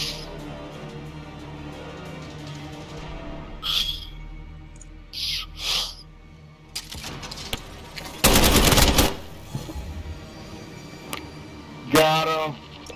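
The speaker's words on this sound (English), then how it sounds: "I'm gonna shoot the piss out of his motherfucking ass" Gunfire in Call of Duty Plunder, with scattered single shots followed by a loud, dense automatic burst and another short volley near the end, set against quiet game ambience.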